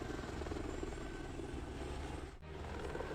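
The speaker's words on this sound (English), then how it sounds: "Once a filled bucket is attached, the aircraft lifts and maneuvers it with careful precision." A helicopter hovers and lifts a filled concrete bucket, its rotor and engine roar steady, loud and close, with one brief dip in the noise near the end.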